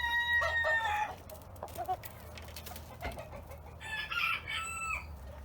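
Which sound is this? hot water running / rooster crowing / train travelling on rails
rooster crowing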